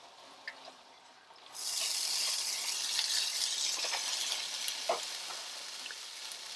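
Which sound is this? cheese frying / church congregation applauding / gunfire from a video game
cheese frying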